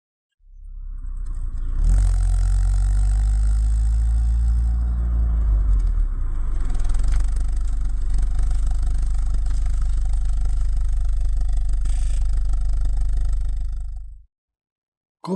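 A Fiat 500 engine starts and runs, a deep rumbling idle swelling into a louder revving roar, then settling and cutting off abruptly near the end, close and alone.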